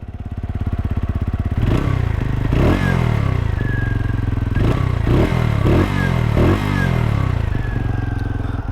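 A motorcycle engine thumps at idle, then revs up and down several times, loud and close, with a throaty exhaust note.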